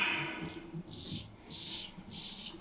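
A straight razor drawn back and forth across a Velvet Glider strop, giving soft, close rubbing swishes in a steady rhythm of about four strokes, with quiet room tone in between.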